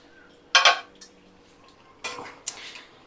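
A spoon stirs mutton curry in a pot, giving a few close clanks and scrapes in two short bursts against a quiet background.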